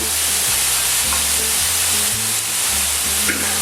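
Beef browns in a pan with a steady, loud sizzle and crackle that runs without a break, while low thumps and clatter of cooking underneath come and go in short repeated steps.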